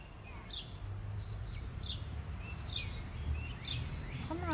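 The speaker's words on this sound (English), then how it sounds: "The birds are gonna come out, you know, all night." Backyard birds chirp near a bird feeder, with scattered short high calls and tweets over a steady low outdoor rumble, fairly faint and without speech.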